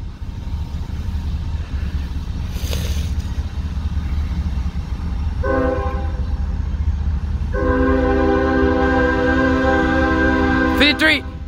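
CSX locomotive 5338, leading freight M693, passes with its K5HL horn: a short blast around the middle, then a longer loud chord near the end, over steady rolling train rumble.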